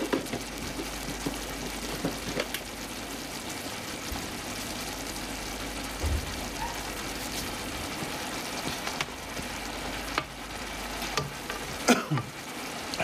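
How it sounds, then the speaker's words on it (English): Mediterranean chicken with oregano simmers in a pan, a low steady bubbling sizzle with occasional clinks and stirring scrapes, close and fairly quiet, no talking. "we're gonna let that simmer for about 3 minutes now"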